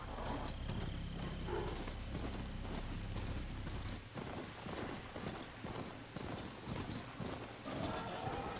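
A mount's hooves clip-clop steadily in Horizon Forbidden West, a continuous run of quick hoofbeats under game ambience and a low rumble that drops away midway, fairly quiet overall.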